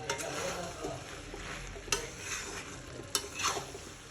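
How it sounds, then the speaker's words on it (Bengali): Chicken with chili powder sautéed in a pan, a continuous soft sizzle with spatula scrapes and two sharper clicks against the pan, quiet and close, with no voices. "তো এখন আমি এটাকে ভালো মতো কষাবো।"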